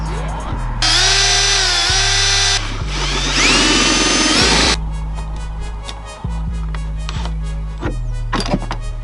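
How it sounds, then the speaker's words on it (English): A power drill bores through the rear diffuser of a Nissan 350Z in two loud bursts of high whining, with brief pauses and clunks of handling between and after, close to the car. "I can put it onto the car, drill through the diffuser, and get it bolted to on"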